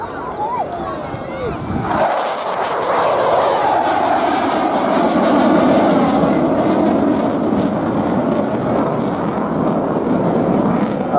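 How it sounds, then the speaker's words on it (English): A Eurofighter Typhoon jet fighter arrives at the Airbourne air show, its engine roar surging in abruptly and then holding a loud, broad rumble as it sweeps past, with a commentator talking over it. "coming in from the left-hand side now, please welcome Turbo in the mighty Typhoon"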